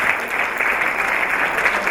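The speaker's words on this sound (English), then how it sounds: "Everyone give John a round of applause." A round of applause from an audience at a school presenters' event, a dense, steady burst of clapping close and fairly loud, brief and unbroken.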